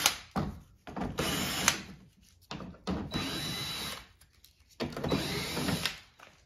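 A power driver removes 10 mm screws from the front wheel opening extensions of a 2021-2025 Toyota Sienna Hybrid. Three loud, whirring runs of about a second each are separated by short pauses and faint handling noise.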